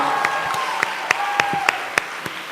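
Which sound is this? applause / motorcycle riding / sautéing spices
applause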